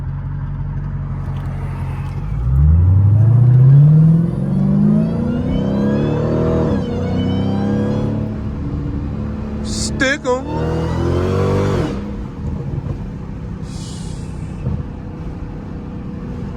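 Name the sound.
Dodge Hellcat car engine revving, with bag intake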